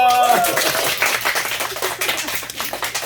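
Audience clapping at a church summer retreat lecture, a dense patter of claps over roughly three seconds with a brief tonal sound at the start and some voices mixed in.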